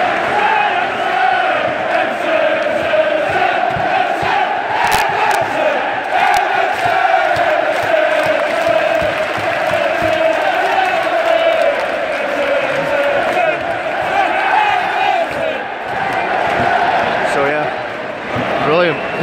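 Football stadium crowd at an Everton vs Stoke match, a loud sustained roar of cheering, chanting and shouting from thousands of fans that swells and dips across the stretch.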